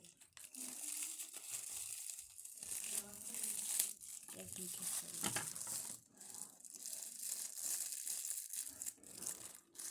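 Plastic bags crinkle and crumple up close in repeated bursts of rustling over several seconds, with a person speaking between and over the handling.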